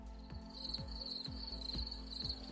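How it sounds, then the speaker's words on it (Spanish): Recorded countryside crickets chirp steadily, played as a tinnitus-masking sound, with a continuous bright trill over a low background and a faint rhythmic thumping repeating about twice a second. "¿Os queréis poner, por ejemplo, grillos?"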